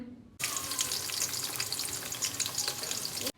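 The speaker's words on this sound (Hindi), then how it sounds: "आपने एक पतीली लेनी है, उसमें घी शामिल करके गर्म होने का इंतज़ार करना है। फिर आपने इसमें प्याज ऐड करनी है।" Onions hit hot ghee in a cooking pot and erupt into a loud, sudden sizzle that crackles steadily for about three seconds, then cuts off sharply.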